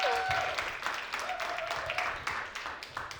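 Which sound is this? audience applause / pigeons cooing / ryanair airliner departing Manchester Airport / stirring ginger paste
audience applause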